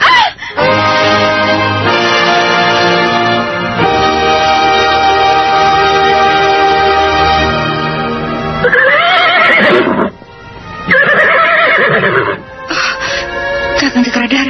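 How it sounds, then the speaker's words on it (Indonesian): A horse rears up after a stone is thrown at it and lets out a loud, drawn-out whinny up close, followed by shorter neighs and snorts in bursts toward the end. "Kakang Cakradara, mengapa tiba-tiba kudaku melompat tinggi?"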